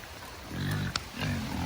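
Pigs on a flooded farm giving a few short low grunts and snorts close by, with rain or wet background noise.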